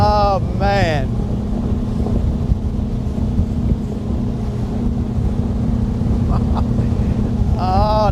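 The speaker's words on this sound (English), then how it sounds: "That is some brisk wind" Brisk wind rushes over the microphone as a motorboat runs across Lake Guntersville, a steady roar with low engine hum throughout, and a voice speaks briefly at the start and end.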